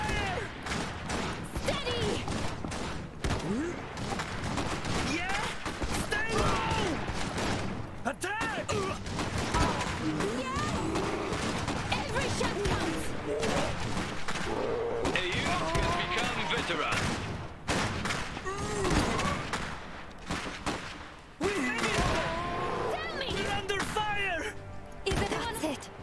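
Gunfire in the Iron Harvest video game, with repeated shots and bursts crackling through a dense battle mix under continuous voices and music for the whole stretch.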